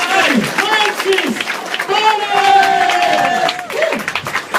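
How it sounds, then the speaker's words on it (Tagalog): Crowd at a business opportunity event claps and cheers loudly, with excited shouting voices over the steady dense applause. "At milyong-milyong palakpak!"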